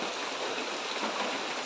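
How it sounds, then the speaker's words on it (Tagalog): Steady rain falls outdoors in an even, dense hiss, moderately loud and constant with no voices, not a heavy downpour. "medyo hindi na malakas yung ulan"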